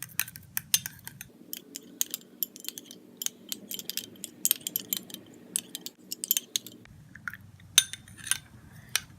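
A spoon clinks and scrapes repeatedly against a bowl while rice face pack ingredients are stirred together with rose petal powder, a close, irregular series of sharp taps with a soft swishing underneath and no talking.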